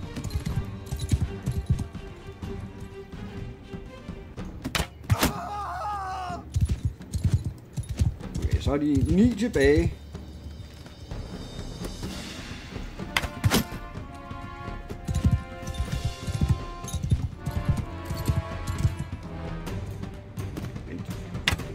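Horses' hooves clip-clop and thud in Mount & Blade II: Bannerlord during a skirmish, a steady irregular patter of mid-distance hoofbeats with battle clatter, while someone talks in Danish over it.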